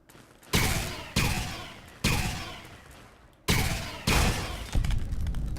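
A heavy turret in Fallout New Vegas fires a series of booming, echoing shots at uneven intervals, each blast loud and ringing out with a long decaying tail, with no talk over it.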